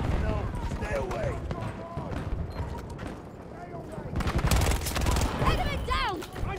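Rapid bursts of automatic gunfire and explosions fill a Battlefield 2042 PC match, dense and loud throughout, with voices talking over the shooting.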